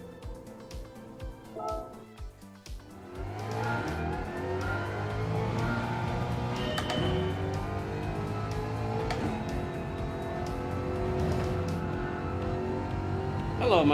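A Ford Mustang race car in Gran Turismo 7 revs up and accelerates through the gears, its engine droning loudly and continuously with rising and falling pitch, with brief tire noise.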